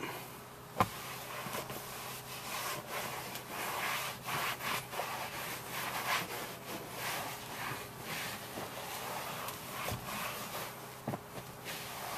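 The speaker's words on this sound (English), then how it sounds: "So now I'm going to take my microfiber and then wipe it up." A microfiber cloth wipes a leather car seat, producing steady close rubbing and swishing strokes in a soft repeating rhythm, with a couple of light taps.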